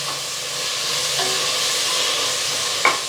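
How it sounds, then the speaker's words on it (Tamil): Sliced onions sauté in a hot pan for mutton biryani, a steady even sizzle with a faint clink of a utensil near the end, close and unbroken, no voices. "ஸோ உங்கள் எல்லாருக்குமே தெரியும் பிரியாணிக்கு வந்து நல்லா பொன்னிறமாக வதங்கணும் வெங்காயம்."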